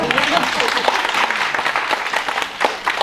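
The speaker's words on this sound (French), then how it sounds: "Donc je pense qu'on peut l'applaudir, Béatrice Lajoie." Audience applause at a library project pitch day for the project's creator, a dense patter of clapping from a seated crowd, fairly loud and sustained for a few seconds.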